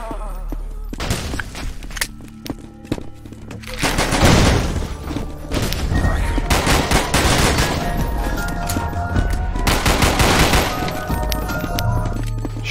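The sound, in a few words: gunfire shooting barrels in video game Zombie Panic! Source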